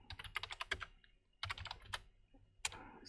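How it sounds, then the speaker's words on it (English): Typing a keyword on a computer keyboard: clustered runs of quick, close key clacks in three bursts separated by short pauses, moderately quiet with no speech. "So here you can type your keyword,"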